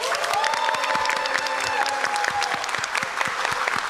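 A convention hall audience at GalaCon 2024 applauds to welcome a guest onto the main stage, steady, dense clapping from a large crowd with a faint cheer, sustained throughout.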